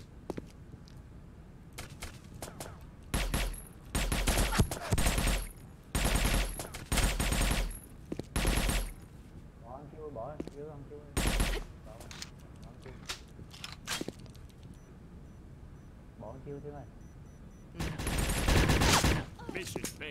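Automatic weapon fire in the online shooter Sudden Attack during a clan war on the Cross Port map: repeated loud bursts of rapid shots with short gaps, while players talk over the action.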